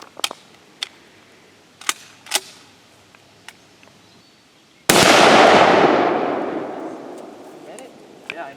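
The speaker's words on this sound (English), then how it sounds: "Up next, we got a 30-06 coming out of my Remington 760." A 30-06 round fired from a Remington 760 rifle strikes a steel railroad tie plate outdoors: one loud, sharp blast with a long decaying roar, following a few faint clicks and taps.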